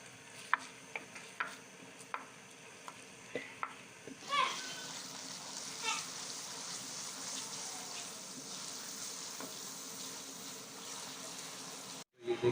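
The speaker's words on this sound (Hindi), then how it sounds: "प्याज को अच्छी तरह से भूनेंगे।" Onions fry in a pan for chicken korma. A few light utensil clicks are followed by a soft, continuous sizzle, close but fairly quiet, with a voice talking over it.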